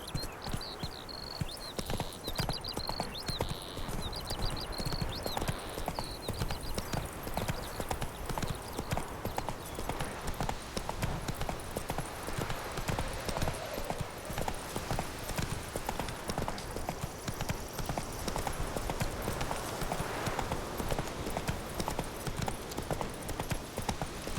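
A horse's hooves clip-clop steadily at a walking pace on a road in The Witcher 3 video game, continuous and fairly close, with faint game ambience behind.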